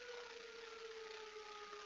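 A tornado siren in a video game wails in a steady sustained tone, faint and continuous, slowly drifting lower in pitch with no talking.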